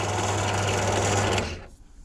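A cheap Screwfix drill press hums with a steady motor whine and rattle, near and fairly loud, then switches off and winds down quickly to near silence.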